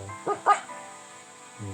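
A dog in the Minecraft video game gives two short, close yipping barks in quick succession, followed by quiet game ambience and a faint low sound at the end.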